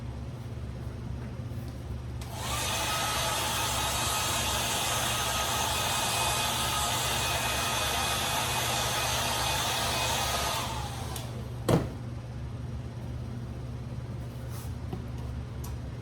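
A hair dryer blows steadily for about eight seconds while drying paint on a craft pumpkin, a close, even whoosh and whine that switches on and off abruptly, followed by a brief knock.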